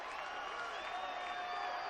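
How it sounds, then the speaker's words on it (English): Stadium crowd at a 1996 UCLA college football game applauding an injured UCLA player, Skip Hicks, as he is helped off the field; a steady, moderate wash of clapping and crowd noise with no pauses. "a round of applause for Skip Hicks, who is up and being assisted off to the sideline"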